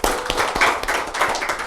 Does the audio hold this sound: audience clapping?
yes